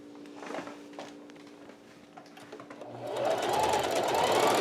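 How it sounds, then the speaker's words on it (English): A sewing machine stitches cloth along the center seam of a fold mask, starting with quieter handling and brief taps before the motor runs up into a steady, loud, continuous whir over the last second and a half. "With the insides out, and then stitch along the seam."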